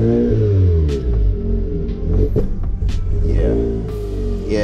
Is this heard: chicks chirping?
no